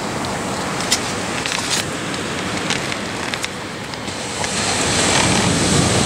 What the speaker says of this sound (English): listening to the waves.